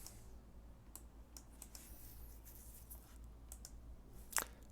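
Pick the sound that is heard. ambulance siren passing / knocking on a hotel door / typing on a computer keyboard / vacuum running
typing on a computer keyboard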